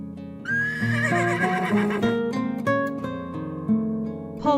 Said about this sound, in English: Tarpan wild horse.